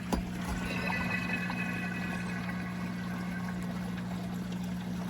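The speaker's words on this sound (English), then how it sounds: "If you listen, you'll hear the gurgle." Steady flowing, pouring water from a backyard pond bell siphon at night, with a constant low hum underneath, a continuous liquid rush without distinct gurgles standing out.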